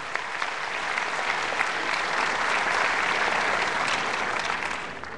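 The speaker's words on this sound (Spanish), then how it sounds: "un fuerte aplauso el día de hoy a los maestros del Perú por su sacrificio" A crowd gives a long round of applause for the teachers of Peru, steady, dense clapping that holds even throughout at moderate loudness, with no voices heard over it.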